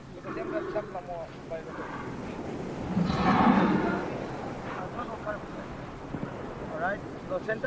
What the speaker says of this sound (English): that is the sound of one very tired, very large female leatherback turtle